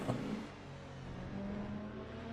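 Porsche and GT3 race cars in the racing game Le Mans Ultimate at Fuji, a steady engine drone with a rising rev tone, moderately loud and continuous without voices.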